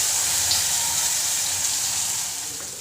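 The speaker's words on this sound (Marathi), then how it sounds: "मसाला आता टाकला आहे आणि तो चांगला परतून घेते." Ground masala sautés in hot oil in a kadhai, a loud, continuous close-up sizzle that holds steady and eases off slightly toward the end.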